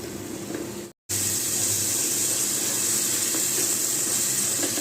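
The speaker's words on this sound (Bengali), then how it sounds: "পেঁয়াজটাকে খুব ভালো করে একটু তেলের সাথে ভেজে নেব" Onions with red chili powder fry in oil, a steady, bright sizzle close by that drops out briefly and then resumes at a constant level without any voices.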